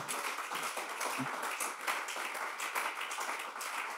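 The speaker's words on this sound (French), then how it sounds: "un tonnerre d'applaudissements" A comedy club audience claps and applauds, a dense continuous patter of many hands held steadily throughout at moderate level, with no talking over it.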